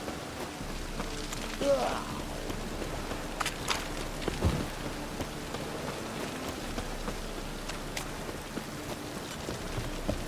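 Rain in the video game The Witcher 3: Wild Hunt, a steady soft patter of drops on surfaces throughout, with occasional brief louder splashes or thuds over the continuous wash.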